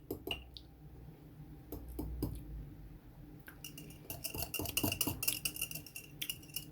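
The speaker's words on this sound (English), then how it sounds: "Now let me stir this all up and see what it tastes like." A spoon stirring salad dressing in a bowl for an Italian grinder salad makes a run of close metallic clinks and scrapes, sparse at first and then quicker and busier toward the end.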